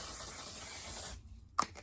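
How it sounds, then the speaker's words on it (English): A makeup primer spray gives a steady close hiss for about a second, then stops, followed by a faint click and small rustles. "I'm very happy with this one size spray-on primer."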